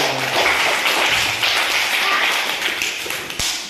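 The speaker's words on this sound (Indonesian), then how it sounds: "tepuk tangan dulu sekali" Students clapping together in a classroom: a dense burst of hand claps, loud and close, sustained for a few seconds before tapering off.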